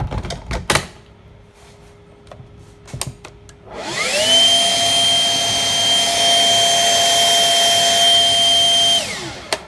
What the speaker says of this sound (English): Now let's run the Stihl.